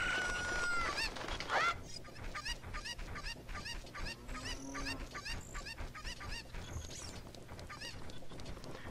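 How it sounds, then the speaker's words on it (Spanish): Chickens clucking in the video game Zelda Ocarina of Time, several fowl calls and squawks scattered over a busy game soundscape, fairly faint and continuous with no talk. "Las gallinas."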